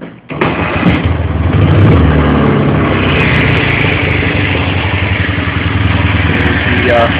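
A Marusho motorcycle fitted with a Ural ignition system, converted from a double set of points to a single set, starts and then runs steadily at a loud, close, even idle.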